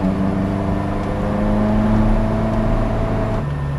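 A Ferrari F40 driven on a winding mountain road, its engine giving a steady, loud droning hum heard from inside the car for a few seconds, with a slight pitch shift near the end.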